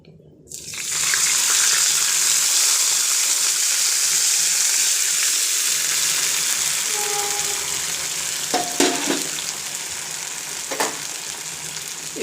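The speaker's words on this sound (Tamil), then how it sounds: "பின்ன வந்து இப்போ வேக வச்சுருக்கேன் இந்த பாசிப்பருப்பு இதில் கொட்டிடலாம்." Cooked moong dal hits a hot tempering of pepper and cumin, and a sudden loud sizzle bursts up and holds as a steady hiss, with a few light clinks of utensils near the end.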